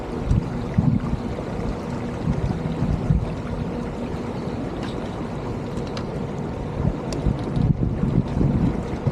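Steady wind rushes and buffets around a sailboat on open water, with gusting microphone noise and faint water slap underneath, continuous throughout with no talking.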